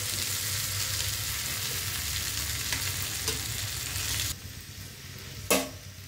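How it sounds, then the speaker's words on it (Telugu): Okra and onion pieces fry steadily in a pan for a curry, with a constant sizzle and occasional scrapes and clatter of stirring, the frying quieter toward the end after a brief knock. "బెండకాయ ముక్కలు వేసుకున్నాక కూరను ఒకసారి బాగా కలుపుకొని ఈ ముక్కల్ని బాగా మగ్గనివ్వాలి."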